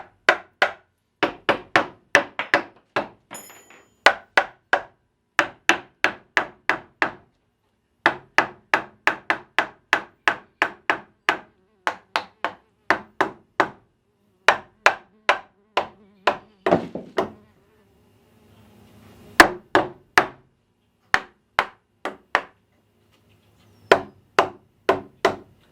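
A hammer taps a pallet board flush onto a wooden workbench frame, giving sharp, fairly loud knocks in quick bursts of several blows with short pauses between, and no talking.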